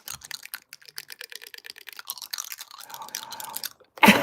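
Close-up ASMR teeth clicking: rapid, crisp, dry clicks in quick irregular bursts near the microphone, with a soft rustle toward the end.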